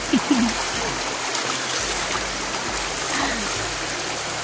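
River water flows steadily and close by as people bathe in it, a broad continuous rush with small splashes, and voices are faint beneath it.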